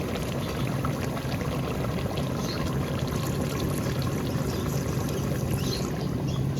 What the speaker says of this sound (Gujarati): આપણે પાણી નાખવાનું.